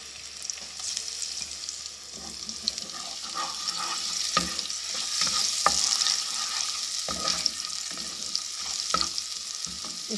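A teaspoon of ginger garlic paste fries in hot oil and ghee for a moth dal dish, giving a continuous close sizzle with occasional stirring clicks and scrapes.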